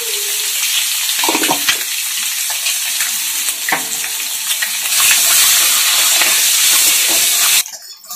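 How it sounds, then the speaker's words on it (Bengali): Eggs fry in hot oil in a pan with a loud, dense sizzle and crackle close up, swelling halfway through before cutting off sharply at the end. "ডিমগুলো ভাজা হয়ে গেছে"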